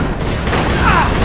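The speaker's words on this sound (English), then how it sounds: "Have a grenade!" A grenade blast in the shooter game Borderlands 2: a loud, dense burst of explosive noise with rumbling gunfire-like crackle filling the whole moment.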